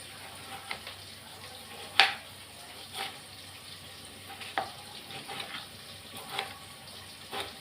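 Green chilies fry in a pan with a faint, steady sizzle, broken by a few sharp crackles and stirring scrapes.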